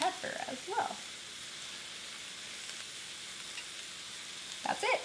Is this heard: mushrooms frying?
yes